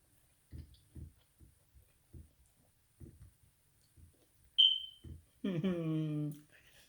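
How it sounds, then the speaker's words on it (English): A single short, high-pitched smoke detector chirp rings out between soft thumps, followed by a person speaking. "there's no way I'm going to sleep in here with that thing beeping"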